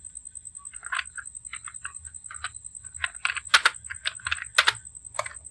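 Fingers tap out irregular bursts of keystrokes on a computer keyboard, close and crisp clicks clustered in quick runs with short gaps, over a faint steady electronic whine.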